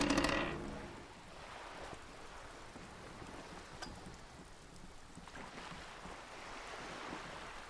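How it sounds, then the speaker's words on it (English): Wind flapping a sail on a boat at sea in Disco Elysium: a burst of flapping at the start settles into a steady rush of wind and water that continues throughout, with no talk. "The wind flaps the sail above her."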